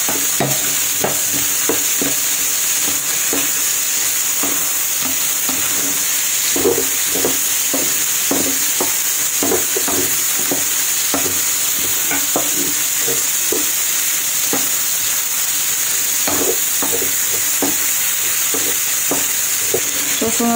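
Garlic and ginger sizzling in a pan for a chicken tomato dish, a continuous close frying crackle with repeated scraping stirs of a utensil across the pan throughout.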